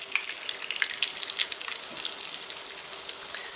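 Eggplant slices frying in oil in a skillet give a dense, steady crackling sizzle, close and fairly loud throughout, with no voices.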